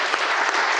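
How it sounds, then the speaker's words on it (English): Round of applause from an audience at an awards ceremony, a dense, loud, continuous burst of many hands clapping, brief and uniform without speech. "let's give them a round of applause anyway"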